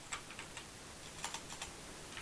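A computer keyboard typed right in front of the microphone, giving a string of faint, irregular light clicks over a quiet background hiss.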